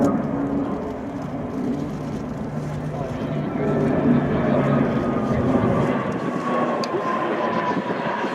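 A C-27J Spartan transport aircraft flying an aerobatic display at an airshow, a loud, sustained turboprop drone that swells and shifts as it rolls, under continuous commentary from a public address announcer.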